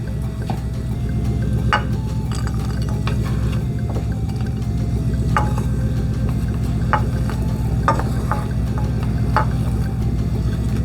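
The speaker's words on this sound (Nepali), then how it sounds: "ल यो ड्राई फ्रुट्सहरू राम्रोसँग फ्राई भएको छ।" Raisins and other dry fruits and nuts fry in hot ghee in a pan while making Nepali suji halwa, giving a steady, close sizzle broken by scattered scraping clicks from stirring, with no voices.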